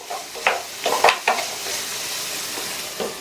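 Carrots cooking in a covered pan are stirred in a few quick scraping strokes over a soft, steady sizzle, then left to fry quietly.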